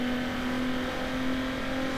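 A car engine in the racing game Need for Speed Underground holds a steady, fairly faint high whine with a constant tonal hum and no talk over it.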